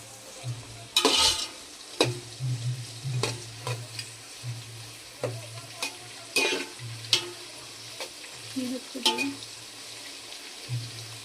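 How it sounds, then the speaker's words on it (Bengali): Capsicum frying in a pan for vegetable fried rice, a steady close sizzle broken by repeated loud scraping stirs of a spatula, the strokes coming every second or so. "এবার ক্যাপসিকামটা একটু ভাজা হবে।"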